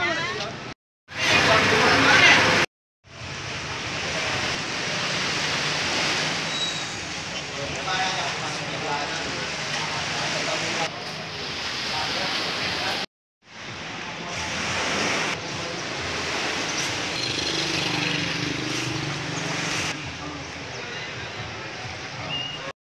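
Large waves wash against a harbour pier at a fish-auction dock during the windy season, a steady loud roar of surf and wind with brief dropouts, some nearby voices mixed in.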